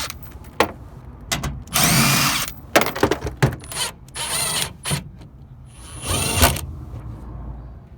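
Power drill spinning bolts out of a 2007-2014 Chevrolet Silverado / GMC Sierra tailgate cover, heard in several loud whirring bursts of one to two seconds separated by clicks and handling noises, close up.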